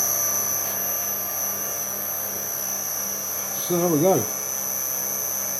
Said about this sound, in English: A little bit of time and patience, and we've got a motor running